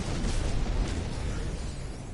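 Continuous rumbling blasts as pirate ships explode in No Man's Sky, a loud, dense, bassy roar that rolls on without a break and then slowly thins out, with no talking over it.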